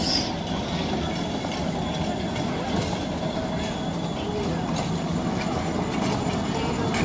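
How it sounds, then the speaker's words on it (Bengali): A small children's ride train runs at an air force museum in Dhaka, giving a steady, close rumbling roar with faint rattling and an even loudness. Crowd noise and voices blend in underneath. "বেবি ট্রেন যেটা চলে,"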